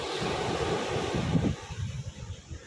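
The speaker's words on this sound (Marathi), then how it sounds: "नाही वारा आहे हे बघा लाटा काय" Wind buffets the microphone at a seashore while sea waves wash in, a loud continuous rush that surges then eases into a softer, choppier rumble near the end.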